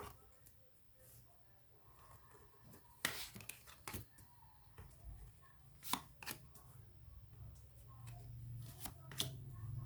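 Tarot cards being shuffled and handled, soft irregular riffles and slaps with a few sharper card snaps, close and fairly quiet over a low background hum.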